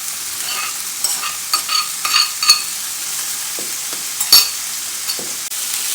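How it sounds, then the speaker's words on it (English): Rice and defrosted peas sizzle steadily in a hot frying pan while being stirred around, with scattered scrapes and clicks of the utensil over a constant frying hiss, close and fairly loud. "So just give that all a good stir around. You want the rice to be hot, but not burnt."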